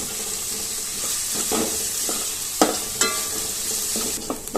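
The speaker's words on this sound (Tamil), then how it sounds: "கூடவே ஒரு கத்து கருவேப்பிலையும் போட்டு நல்லா வெங்காயத்தை வதக்கிக்குவோம்." Sliced onions and curry leaves sauté in hot oil in a pan, a steady close sizzle broken by occasional scrapes and clinks of a stirring spoon, with no talking.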